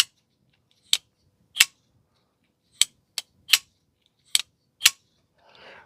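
A folding knife is flipped open repeatedly by its small flipper tab, giving about eight crisp, sharp metallic snaps spaced irregularly in near silence, with a soft rustle at the end.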